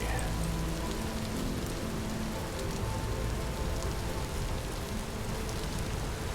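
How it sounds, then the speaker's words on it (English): Steady heavy rain in the Vintage Story video game, a constant broadband patter on surfaces throughout, loud and even with no talk. "The rain, though, could really do with going away."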